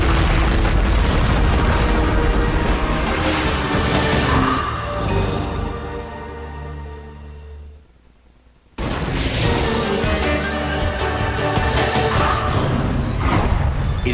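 A dramatised asteroid bombardment of the Moon, rendered as loud continuous booming explosions and rumbling impacts with a brief near-silent gap midway before the barrage resumes, no voices.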